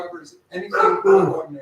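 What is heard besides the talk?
dog barking in the background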